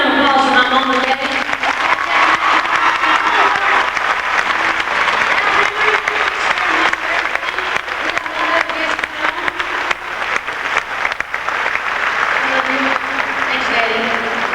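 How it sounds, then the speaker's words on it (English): A concert crowd at a 1994 country fan-festival show applauds warmly, a long, dense wash of clapping and cheers that runs the whole stretch while voices talk over it. "please give a big round of applause for my mom and daddy"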